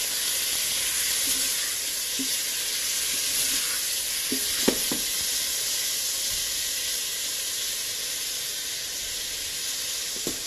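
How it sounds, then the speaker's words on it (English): Lamb pieces sear in a hot pan with a steady, close hissing sizzle and a few brief clinks and scrapes as the meat is turned. "at this stage we really want the meat to sear, we don't want it to boil"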